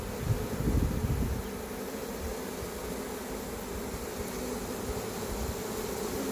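A swarm of honeybees buzzes at a hive in a continuous, dense drone, louder at first and then steady and moderately loud throughout, with no voices.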